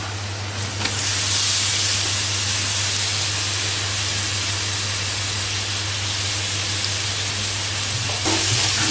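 Grated carrot joins softened onion with salt and turmeric in a hot pan for carrot poriyal, sizzling and hissing steadily and loudly from start to finish, with a low hum beneath and no talking.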